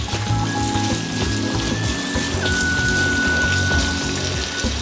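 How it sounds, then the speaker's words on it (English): Peppers and beef drippings frying in hot oil in a wok, a steady crackling sizzle with scattered pops, close and continuous, no voices. "all of our peppers down into our wok here, into our oil"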